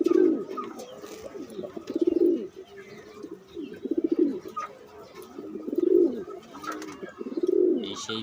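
Pigeons coo close by in a repeated rhythm, about five soft, throaty rolling coos spaced roughly a second or two apart, with quieter gaps between them.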